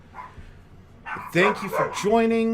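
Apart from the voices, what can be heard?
dogs barking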